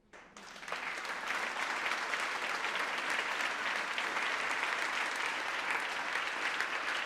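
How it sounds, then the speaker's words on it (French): Audience at a women's event bursts into sustained applause, dense steady clapping that swells within the first second and holds loud and even, with no talk over it. "applaudissez-la."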